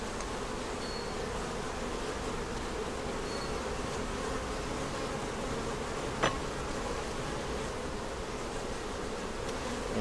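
Honey bees buzz around an open hive on a hot day, a soft, continuous drone with a brief sharp click partway through, and no voices.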